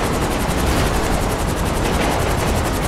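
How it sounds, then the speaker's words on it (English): A helicopter in Grand Theft Auto V roars loud and constant, with a rapid, even thump of rotor blades running through the whole stretch and no talk. "I don't need a chopper."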